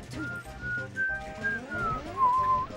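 A person whistles a wavering tune with sliding pitches, fairly close and steady, with faint room noise and a bit of background chatter underneath.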